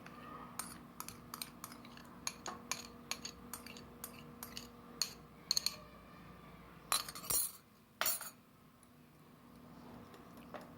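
A spoon mixing finely ground garlic into Singaporean rice, giving a string of light, sharp clinks and taps against the dish at an uneven rhythm, close and fairly quiet, with a few louder knocks near the end.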